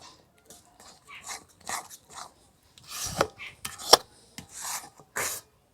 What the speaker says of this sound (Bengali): এইভাবে কিন্তু অনবরত নাড়তে হবে।